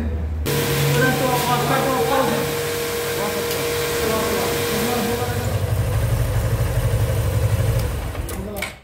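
A Suzuki Gixxer motorcycle engine idles close by, likely with incorrect tappet clearance, as a steady mechanical hum with ticking valve clatter and a slight rise in pitch near the end before cutting off.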